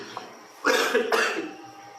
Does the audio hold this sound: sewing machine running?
no